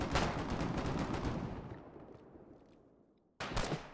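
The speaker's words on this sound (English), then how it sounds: "It's a machine gun!" Machine gun fire in the Foxhole war game: a loud rapid burst of shots rings out and decays over a few seconds into quiet, then a second sudden burst cuts in at the end; no voices.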